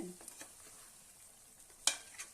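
Country chicken curry being stirred in a pan gives faint, sparse scrapes and soft sizzles, with one sharper clink of the spoon near the end, quiet and without talk.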